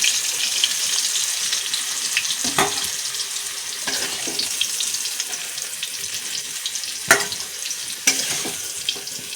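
Potatoes and spices fry in a pan with a steady, loud sizzle throughout, broken by a few sharp scraping or stirring knocks.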